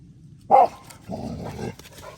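A guard dog gives a single sharp bark, followed by a lower, rumbling growl-like whine from nearby.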